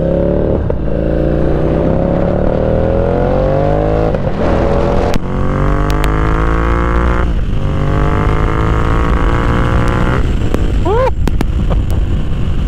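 A Ducati Diavel 1260 motorcycle engine revs up in repeated climbing sweeps, close and loud, with the pitch rising through each gear and then dropping back.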